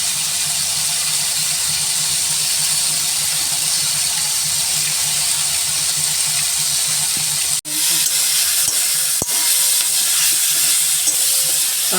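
Green chilli frying in a pan of brinjal and fenugreek leaf curry while being stirred, giving a steady loud sizzle with a brief break partway through and a few scraping knocks afterward. No voices.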